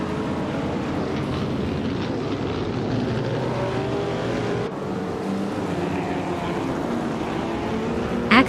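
Vintage racing engines, including a 1937 Alfa Romeo 12C, drone and whine in a racing video game, several cars layered into a steady rumble with shifting pitch, fairly loud throughout and without talk.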